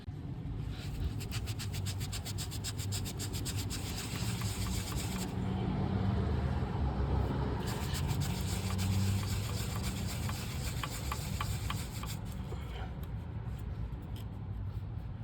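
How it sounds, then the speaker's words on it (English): A rag wiping the piston crowns and cylinder sleeves clean on an engine block deck makes a steady, close scrubbing hiss of repeated rubbing strokes with a brief pause midway, and no one talks. "So now I'm gonna try to wipe the crowns off these 2 pistons and then clean the sleeves off of 1 and 4."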